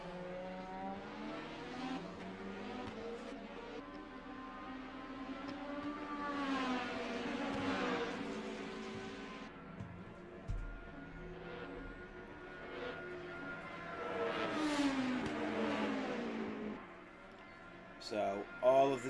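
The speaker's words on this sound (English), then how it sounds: "So all of the hypercars are out on track for their final runs." Hypercar engines racing in the sim game Le Mans Ultimate at a Belgian round of a multi-class series, with rising and falling engine notes sweeping past under continuous commentary.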